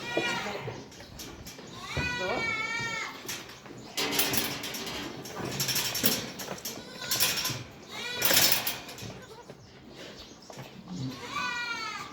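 Goats bleat loudly and close by during milking of a nursing mother goat, wavering cries at the start and end with rustling and a Korean-speaking voice in between.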